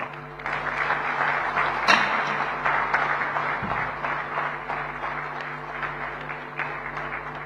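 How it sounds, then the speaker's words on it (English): A crowd at the Indo-American Chamber of Commerce national convention claps steadily for the chief guest after his address, a full, even wash of applause with a brief loud spike early on. "let that applause continue as we thank our chief guest, His Excellency, Mr. Sergio Gore"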